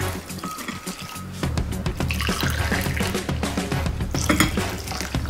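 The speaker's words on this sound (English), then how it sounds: "I will add two big cups of hot water into my rice" Hot water is poured into a pot of rice for Armenian dolma: quiet kitchen clatter first, then a loud, steady gushing rush that runs to the end.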